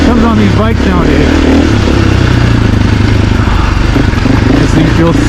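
2024 Husqvarna FE450 dirt bike engine, stock, roaring steadily and loud while being ridden, with some clatter and wind, under an excited voice.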